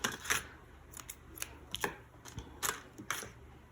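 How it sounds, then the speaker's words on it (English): Scissors snip through a pinched bundle of yarn while a tassel is made, a series of short, crisp, close cuts and small handling noises at an uneven rhythm, with no voice. "I'm just gonna pinch it and cut it."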